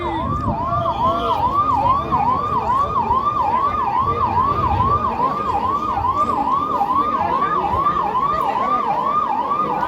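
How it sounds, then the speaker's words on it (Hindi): Ambulance siren wailing loud and steady near a political rally in Shimla, the rising and falling tone repeating rapidly throughout with traffic noise underneath. "एम्बुलेंस है, निकल जाने दीजिए, उसको रास्ता दे दीजिए।"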